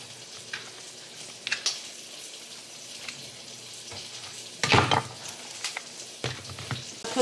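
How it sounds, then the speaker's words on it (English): An egg fries in a pan seasoned with adobo and black pepper, a soft steady sizzle with intermittent louder crackles and the clatter of a utensil against the pan, close by with no talk. "Egg is cooking."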